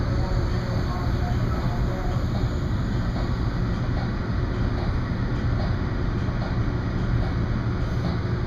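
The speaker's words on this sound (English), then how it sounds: "You wouldn't believe the plumes of snow that are being put up by the train as it plows through here." A train plows through deep snow on the tracks at Lake Forest station during a blizzard, giving a continuous loud, dense roar of rail noise and blowing snow, with someone talking over it.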